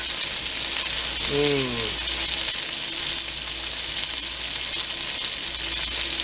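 Plainly seasoned hamburger patties sear in a pan with a loud, dense, unbroken sizzle close by, and a brief whistling tone rises over it for under a second.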